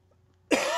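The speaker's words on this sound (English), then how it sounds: "This cough that I can't get rid of." One sharp, close cough bursts out after a half-second of near silence, a single harsh throaty burst from a man with a lingering cough.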